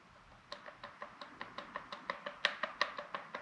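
Worn driveshaft joint on a Jeep Grand Cherokee WK gives a quick series of about fifteen sharp close-up clicks while being twisted back and forth by hand, evenly spaced and growing slightly louder.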